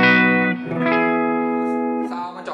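A distorted semi-hollow electric guitar with humbucking pickups rings out in sustained, thick chords with a warm, slightly hollow body, played alone and fairly loud, with a few chord changes.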